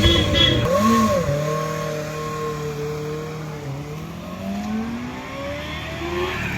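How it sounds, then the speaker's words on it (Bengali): A 2024 Kawasaki Ninja ZX-4R inline four-cylinder motorcycle engine revs up in quick rising blips, then holds a smooth, sustained drone that dips and climbs again, loud and close. "কি স্মুথ ইঞ্জিন রে ভাই"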